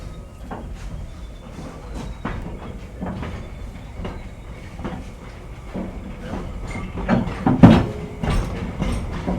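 Steam locomotive L 508 running along a heritage line at Shantytown, with a rhythmic rattle and clatter of the train rolling nearby that swells louder toward the end.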